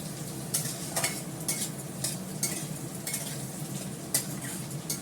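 Onions fry in oil in a pan for a mutton dish, a soft steady sizzle punctuated by a rhythm of spoon scrapes and light metal clinks against the pan roughly every half second, close with no speech.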